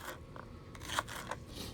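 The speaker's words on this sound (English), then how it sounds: "Dice up your jalapenos." A knife dices jalapeños on a cutting board while red chili is being made: a few faint, crisp chopping taps spaced irregularly over soft background noise, with no talking.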